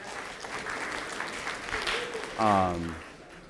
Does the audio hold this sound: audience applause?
yes